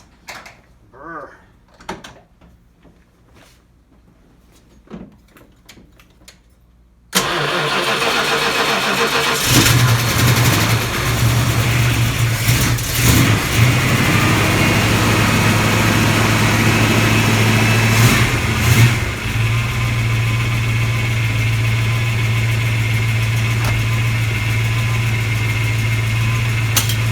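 A movie car's engine cranks and catches, then revs and settles into a loud, rough idle with a few sharp throttle blips; faint low talk and clatter come before the engine fires.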